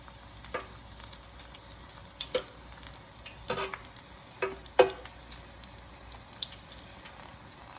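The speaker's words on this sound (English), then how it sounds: "So we're just gonna let those fry up." Food fries in a pan in a kitchen with a soft, steady sizzle, broken by several sharp clicks and taps of utensils against the cookware.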